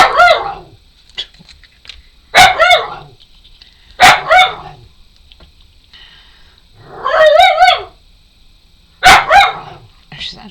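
A dog barks in several short, sharp bursts spaced a couple of seconds apart, close by and loud, with quiet gaps between them.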